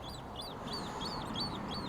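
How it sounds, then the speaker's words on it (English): Small ducks or similar fowl call from a distance in a repeated series of short, rising quacks over a steady outdoor wash of ambient noise, with no voices. "There's some little ducks down there."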